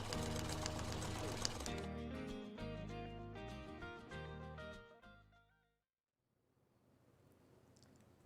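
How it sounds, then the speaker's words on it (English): A sewing machine stitches a jelly roll quilt block in a steady run of rapid mechanical chatter for about five seconds, then stops and leaves a faint room hush. "So let's get sewing."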